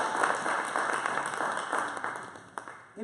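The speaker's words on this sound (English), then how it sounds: "Let's give Brother Jesse a round of applause." Steady applause from a crowd, a dense wash of clapping that holds evenly for a few seconds before tapering at the end.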